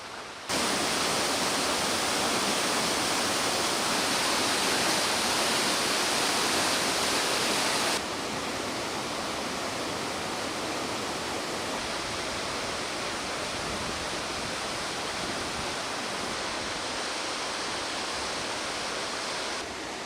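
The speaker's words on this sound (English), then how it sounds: "to see the largest waterfall in the region" Dynjandi, a 100-metre waterfall in Iceland, roars as a loud, unbroken rush of falling water heard up close, its level dropping slightly partway through but staying constant and alone.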